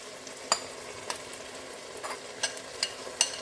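Coriander leaves frying in a pan with onions and ginger-garlic paste for a vegetable pulav, giving a faint steady sizzle broken by several sharp stirring clicks and scrapes.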